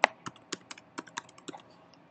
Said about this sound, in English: Now I'll type.